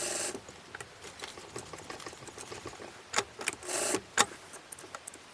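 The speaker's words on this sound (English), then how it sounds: "now we're going to sew the seams" A sewing machine stitches the seams of a Japanese noren door curtain in short bursts of rapid whirring. Quieter fabric handling and clicks fall between the runs, and the machine is close and fairly soft.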